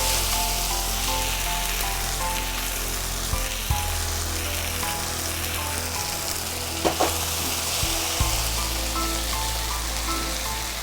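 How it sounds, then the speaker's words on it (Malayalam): Prawns coated in masala sizzle steadily in a pan with browned onions, a continuous close frying hiss broken by a few soft stirring knocks. "ഇനി ഇതിങ്ങനെ ഇളക്കി വഴറ്റാം."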